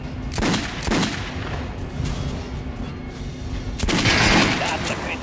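Gunfire in the video game Metro Last Light, rapid bursts of shots with a sustained background rumble, loudest at the start and again near the end, close and heavy, with faint voices under it.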